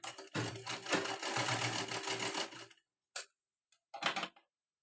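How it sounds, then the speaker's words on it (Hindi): Close sewing machine stitching a blouse, a fast rattling run of about two and a half seconds followed by two short bursts after brief silences. "यहाँ से पक्की सिलाई लगा लेनी है"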